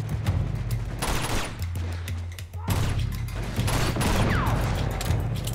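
Dense, sustained gunfire from the Uncharted 2: Among Thieves monastery level, with rapid bursts and thumps rolling continuously over a low game hum.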